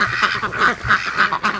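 A flock of ducks quacks steadily and close by as they rush to a lake in the morning, with a dense, overlapping run of nasal calls and no talk.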